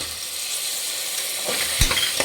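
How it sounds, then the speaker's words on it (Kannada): Tomato and green chillies frying in a pan for egg biryani, a soft steady sizzle with a stir scraping through near the end, quiet and close with no voices. "ಚೆನ್ನಾಗಿ ಫ್ರೈ ಮಾಡಬೇಕು ಮೆಚ್ಚುಗೋವರೆಗೂ ಟೊಮೊಟೊ ಬೇಯಬೇಕು"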